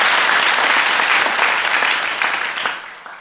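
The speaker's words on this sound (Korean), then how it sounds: "우리 박수로 한번 환영하도록 하겠습니다." A church congregation at a Sunday service applauds loudly to welcome new members, with dense, sustained clapping that fills the room before it thins and fades at the close.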